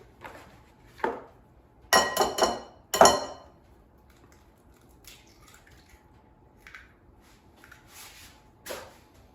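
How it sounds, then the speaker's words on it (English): An egg is cracked for raisin bran muffin batter: a sharp tap, then a cluster of wet, squishy shell-breaking sounds, followed by quieter drips and handling noises in a kitchen. "So let's crack the egg."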